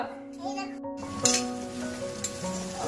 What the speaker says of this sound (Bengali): পেঁয়াজ রসুন সব কিছু ভাজা হয়ে গেছে